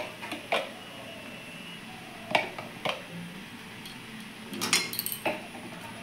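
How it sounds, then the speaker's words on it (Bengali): Cabbage curry cooked with fish head being stirred in a pan after a spoonful of ghee goes in: sparse metallic scrapes and clinks of a spoon against the pan over a quiet background, without talk. "আর একটু গরম মশলা দিয়ে এটাকে আমি ভালো করে নাড়াচাড়া করে নামিয়ে দেবো"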